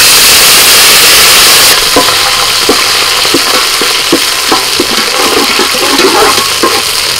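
Water poured into a pan of ghee with frying ginger paste, bay leaf, cardamom, cinnamon and cloves, setting off a loud steady hiss and sizzle with scattered pops and stirring clicks, close and without talk.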